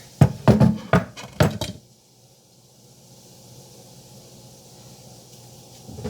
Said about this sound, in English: you can just take your cutting board and scrape your onions into there